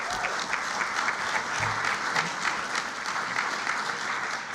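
Sustained round of applause from diners at an annual university alumni dinner, a steady wash of many hands clapping at even loudness, filling the room without a break and with no speech over it.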